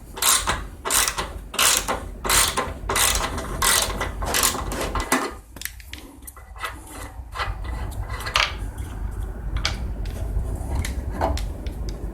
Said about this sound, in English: the 9/16 socket will take off the nut that holds the wheel on